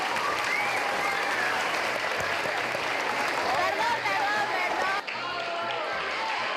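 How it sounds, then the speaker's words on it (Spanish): Loud, steady applause from a school crowd welcoming actress Luz Pinedo, dense clapping and cheering holding throughout before a brief dip near the end. "Recibimos con fuertes palmas a Luz Pinedo"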